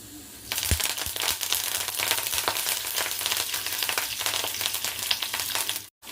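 Peanuts and curry leaves for chitranna fry in hot oil, a loud sizzle that bursts in after a quieter start and hisses on evenly with stirring scrapes, then cuts out abruptly near the end.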